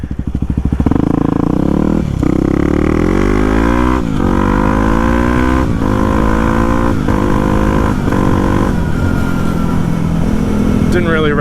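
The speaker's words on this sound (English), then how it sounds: "Didn't really rev her out too far, gonna let her warm up a little bit more." Motorcycle engine revving loudly during warm-up, a throaty steady drone with repeated throttle blips and rising-falling pitch sweeps, close to the microphone throughout with no talk over it.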